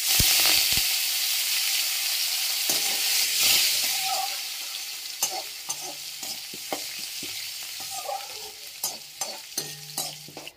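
Fish heads fry in a pan with a loud, continuous sizzle and hiss, while a utensil stirring in the pan adds scattered scrapes and clacks that grow more frequent toward the end.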